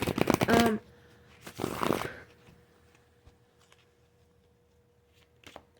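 Tarot card deck being shuffled and cut, two bursts of crisp riffling and flapping cards close up, then quiet with a faint steady hum and a small tap near the end.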